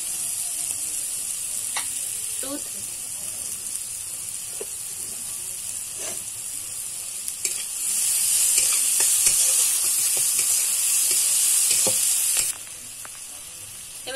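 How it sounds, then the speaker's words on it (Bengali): Onions and chillies fry in a pan with a bright, continuous sizzle, close and loud, intensifying for several seconds in the middle with occasional stirring clicks before settling back. "পেঁয়াজগুলো ভালো করে ভেজে নেব"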